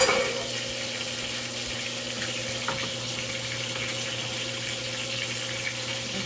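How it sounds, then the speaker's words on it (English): Water running steadily from a kitchen tap while something is rinsed out, a constant close hiss and splash with no talking. "Rinse it out."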